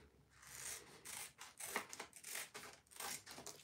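Scissors snip through a paper stencil for silkscreen detail on an IKEA stool, a string of quiet, close crisp cuts and paper crinkles in an uneven rhythm.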